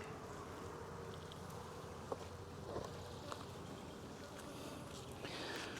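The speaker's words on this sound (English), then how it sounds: "I guess there's a decent amount of bees up here" Honey bees swarming around the boxes of a beehive in a weak colony, giving a continuous dense buzzing drone with occasional louder passes of individual bees close by, steady throughout and without speech.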